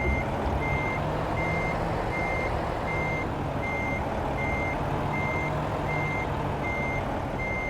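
A truck in American Truck Simulator, fitted with a lifting axle, sounds a steady, evenly spaced reversing beep while backing a trailer, with a constant low engine rumble underneath throughout.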